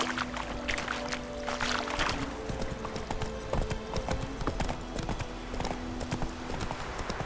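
Roach, the horse in The Witcher 3, galloping at speed, a rapid, loud, close clip-clop of hooves in steady rhythm over ambient outdoor noise and a faint musical drone.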